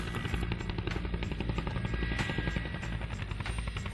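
A helicopter heli-lifting loads into a dam in remote Australian terrain, its steady rotor thrum and turbine whine loud and continuous throughout, with no voices.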